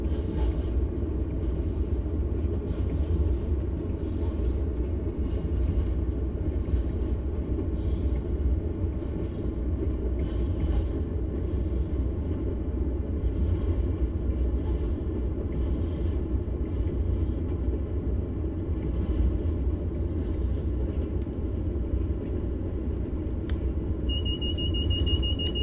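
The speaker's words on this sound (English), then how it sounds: "allow the train to continue to coast up towards the speed limit" A Class 47 diesel locomotive coasting on a downhill gradient in the Train Sim World game, on the West Somerset Railway between Minehead and Bishops Lydeard, gives a steady, loud low rumble of engine and wheels that continues without a break throughout.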